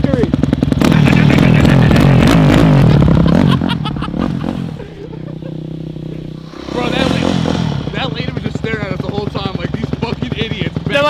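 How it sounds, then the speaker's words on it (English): A dirt bike engine idles and revs loudly up close, with a few people talking over it. "He's starting the bike without boots on"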